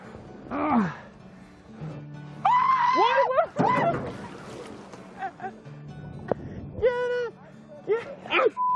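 A man screams after falling into a small lake, with loud, high yelps and gasps in bursts around splashing water and other voices.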